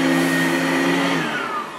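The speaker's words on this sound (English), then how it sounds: "The vacuum cleaner moves so easily." A Riccar RSL5 upright vacuum cleaner runs with a steady whirring hum and a high whine that slowly drops in pitch as it moves, no voices.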